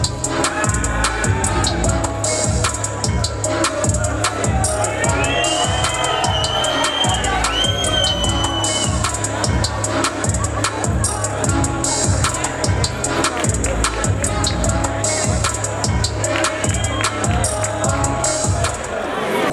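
Crowd cheering and clapping at the Rubavu Music Awards at Intare Arena, a dense, continuous roar of voices and applause with occasional whoops, loud and sustained throughout.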